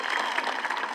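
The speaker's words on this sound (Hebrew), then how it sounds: "כפיים לקהל." Audience applause at an end-of-year school show, a brief dense burst of clapping from a crowd filling the room.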